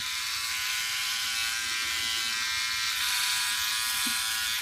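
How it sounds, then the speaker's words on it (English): A Philips OneBlade electric razor shaving neck hair against the grain, producing a steady close-up electric buzz with a faint grinding edge as the blade passes over the skin, unbroken for several seconds with no talk. "I'm shaving against the grain"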